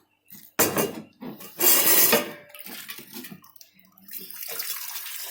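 Glass canning jars clinking and knocking as they are set into a pressure cooker, with bursts of running water and clattering, close and fairly loud.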